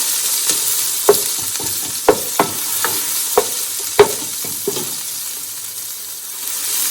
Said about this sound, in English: I'm going to go ahead and add my onion in here.